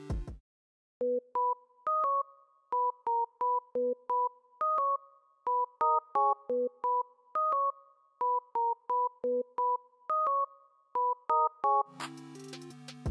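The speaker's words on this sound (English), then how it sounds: "I just used a simple sine wave and made this melody." A simple sine-wave synthesized melody for a hyperpop beat, short evenly spaced notes plucked in a steady rhythm, heard alone and fairly clear.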